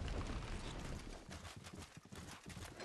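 Horse hooves clip-clop steadily in the video game Rift, a dense run of close hoofbeats under a wash of game ambience, with no voices.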